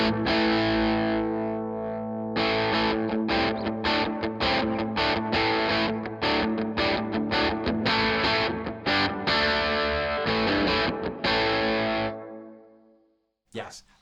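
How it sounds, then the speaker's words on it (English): A custom Valiant electric guitar plays through an amp's overdrive channel and an effects pedal, loud distorted chords and riffs strummed in bursts for about twelve seconds before cutting out. "Where this guitar really sounds great is with the overdrive channel on this amp."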